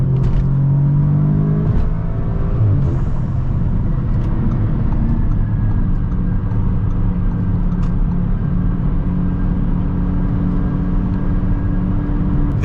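Tuned 2020 Audi S3 with a 425 hp tune pulls hard at full throttle, a loud, steady low engine roar and rumble heard from inside the car, with brief shift blips early on.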